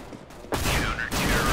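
Video game gunfire erupts in a loud sustained burst of rapid shots after a quieter lull, close and dense, ending in a brief gap before more firing.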